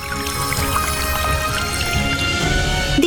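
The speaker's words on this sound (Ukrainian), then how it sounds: "Потрібно просто налити в цю колбу трохи води." Water pours steadily into a glass vessel, a continuous splashing trickle with bright ringing tones, close by and lasting the whole time.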